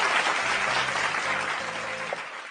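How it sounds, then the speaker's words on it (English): Sustained audience applause at the opening ceremonies of a library and information services month event in the Philippines, a dense steady clapping from a large crowd that fills the whole stretch without talk. "Give her a big round of applause."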